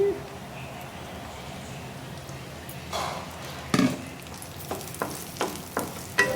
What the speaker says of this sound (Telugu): ఇవి కూడా ఫ్రై అయ్యాక దీనిలోకి కట్ చేసుకున్న బాదం పలుకులు వేసుకోవాలండి.